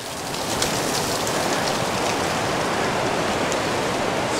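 Water drips and pours near Mae Klang waterfall in Inthanon National Park, making a loud, dense, continuous rush, like heavy rain, that fills the whole stretch without a break.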